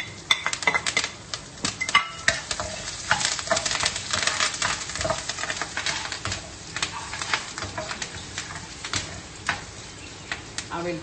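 Cashews, onion and curry leaves stirred and frying in a pan, with a steady crackling hiss and repeated sharp clinks and scrapes of a utensil against the pan throughout.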